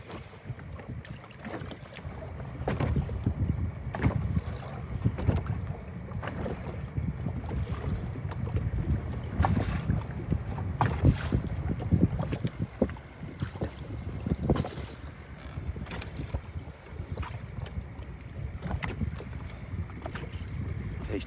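Hard wind on a lake at Reelfoot while crappie fishing from a boat, a continuous loud low rumble of wind buffeting the microphone, with water slapping and boat knocks throughout.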